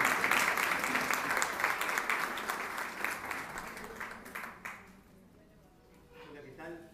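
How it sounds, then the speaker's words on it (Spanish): An audience applauds a speaker at an education event, steady dense clapping for about five seconds that thins out and fades, followed by a voice beginning to talk. "un aplauso,"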